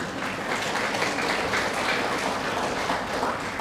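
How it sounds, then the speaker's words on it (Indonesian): Dense, steady applause from a church congregation during a sermon, a continuous wash of many hands clapping at even volume without pauses. "Tepuk tangan meta sudah nang kepala menyemangati."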